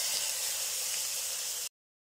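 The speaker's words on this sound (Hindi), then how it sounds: "2 टेबल स्पून ऑयल हमने पैन में डाल लिया है। ये चिकन जो हमने मैरिनेट किया था इसको हम फ्राई करते हैं।" Marinated chicken frying in two tablespoons of oil in a pan, a steady, loud broadband hiss of sizzling that holds evenly for about a second and a half and then cuts off abruptly, with no voices.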